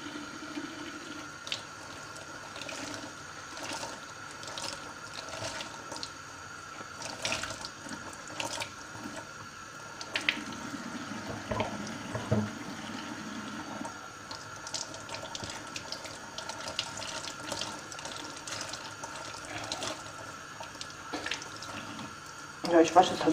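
A tap runs water over the matted synthetic hair of a toy horse as it is rinsed, a steady splashing stream with shifting gurgles and drips that rises louder near the end.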